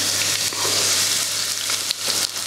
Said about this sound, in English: So chop up your onion and fire it into your frying pan.